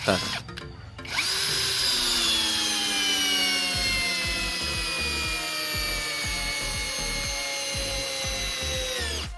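A power drill whines loudly and continuously as it drives a 75 mm deck screw into wood, pitch sagging slightly under load, with no talking.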